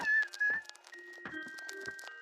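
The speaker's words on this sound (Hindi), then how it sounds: "हाँ, हाँ, क्या ये आवाज सुन रहे हो? हाँ? हाँ, लगता है किसी ने इसे छोड़ दिया। ये तो बहुत छोटा बिल्ली का बच्चा है।" A small cartoon kitten meowing in a Hindi-dubbed Doraemon episode, several thin, high, drawn-out mews in quick succession, clear and close with no talking.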